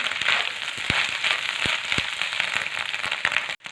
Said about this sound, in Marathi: अशा पद्धतीनेच आपल्याला परतून घ्यायची आहे